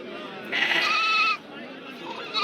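At the Mecheri goat market in Salem, young male goat kids around three months old give a loud, wavering bleat near the mic, then a second shorter one, over a murmur of market voices.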